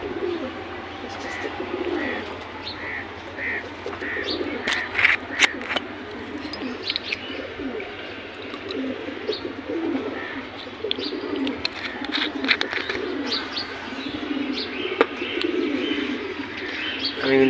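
Pigeons coo repeatedly nearby, soft throaty calls overlapping with scattered chirps and a faint flutter, continuing throughout at close range without talk.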